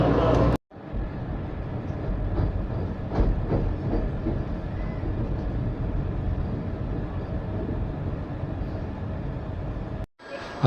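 A Vande Bharat Express running from Howrah to Puri, heard as a steady low rumble and rush of wheels on track with faint clicks, cut by brief silent gaps at start and end.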